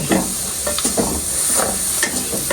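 Green peas fry in a hot pan, giving a continuous sizzle broken by repeated scraping bursts as they are stirred, close and fairly loud with no talking.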